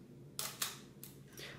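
An Olympus OM-2n film camera shutter fires with its body switched off, giving several crisp mechanical clicks a fraction of a second apart, close and fairly quiet, with no talking.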